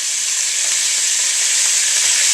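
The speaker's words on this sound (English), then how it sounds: "Sizzling away, as you can see, this is exactly what we want." Steady, loud sizzling of beef and onions frying in a hot Instant Pot for Texas chili, a continuous bright hiss with no pauses.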